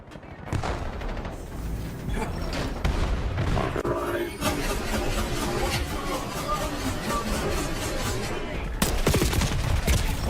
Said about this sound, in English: I shot that guy.